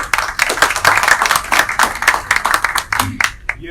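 Audience at the Urdu Mehfil Houston mushaira 2022 clapping steadily, with many hands in a dense, rhythmic patter and a voice briefly coming in near the end.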